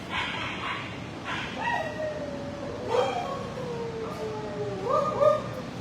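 Several dogs bark and howl in a reverberant animal shelter, rising and falling cries overlapping steadily, with no voices.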